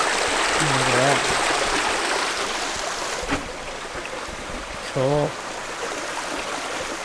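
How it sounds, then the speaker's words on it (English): Running water from a stream in the woods rushes steadily as a constant broadband hiss, with a person briefly speaking over it while out walking. "Some running water down this way"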